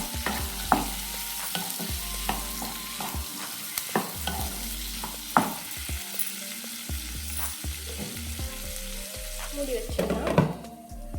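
Ivy gourd and tomato sizzle and fry in a pan while a spoon stirs and scrapes repeatedly, clanking against the metal in irregular bursts over a steady crackling hiss, close up, no speech.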